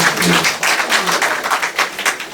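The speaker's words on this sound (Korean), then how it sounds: "수상하신 모든 분들을 위해서 날도 추운데 박수 좀 한번 힘차게 치세요." An audience at a literary award ceremony and book launch claps in close, loud bursts. The applause pulses unevenly throughout and no talking is heard.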